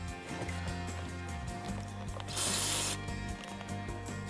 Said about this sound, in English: When you spray this, it smells just like brake clean.